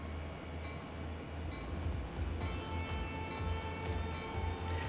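A train rolls along at about 40 miles an hour, a steady loud rumble and rattle of wheels on track with a brief rise in clatter midway, no voices.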